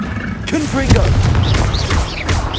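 Blasts from the Confringo fire spell in Hogwarts Legacy, a series of booming impacts and whooshing bursts over dense combat noise, with voices heard through the clip.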